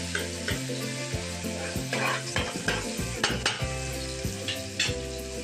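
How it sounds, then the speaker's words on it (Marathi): Onion sautéing in hot oil in a kadhai, a steady close sizzle broken by rhythmic scraping and clinking strokes of a spoon stirring against the metal pan. "कढईमध्ये मी तेल घातलं, त्यामध्ये कांदा घालून त्याला छानपैकी परतून घेतलं."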